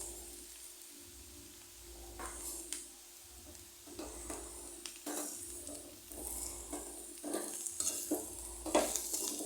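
Ground masala is stirred into potatoes frying in a pan, with a soft sizzle underneath repeated scraping stir strokes close by and no talking.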